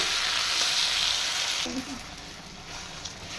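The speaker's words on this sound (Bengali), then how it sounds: "চিনি দিয়ে একটু চিনিটা একটু ভালোভাবে নাড়িয়ে তারপরে মিশিয়ে নিচ্ছি" Sugar is stirred into a mango chutney frying in a pan, giving a steady close hiss that softens halfway through, with a few faint scraping stirs and no voices.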